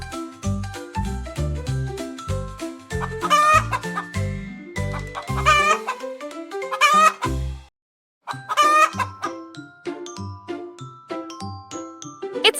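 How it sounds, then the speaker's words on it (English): A hen clucks in a run of sharp, rhythmic calls close up, mixed with a crowing rooster and light tinkling music, with a brief silent gap before the clucking resumes. "It's a hen."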